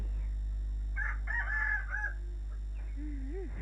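A rooster crows once, fairly distinct over a steady low hum and buzz, followed by a short rising-and-falling tonal squeal, with no one speaking.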